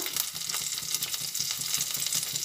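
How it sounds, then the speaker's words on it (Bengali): Garam masala and bay leaves fry in a pan for brinjal korma, making a dense, continuous sizzle with quick rhythmic stirring scrapes close up, and no one speaks. "গরম মশলা আর তেজপাতাটা ভেজে নিতে নিতে এর মধ্যে কিছুটা পরিমাণে আদা দিলাম"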